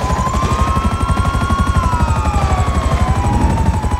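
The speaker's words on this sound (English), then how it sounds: "This is my procedure for getting a new helicopter, by the way." Buzzard helicopter in GTA 5: a steady, loud rotor thrum with rhythmic chopping and a rising, falling turbine whine, heard close and alone.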